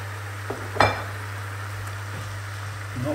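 Sliced apples drop into a pan of chicken breast and wine, setting off a short burst of sizzling and a clink of utensils. A low steady simmer continues quietly beneath.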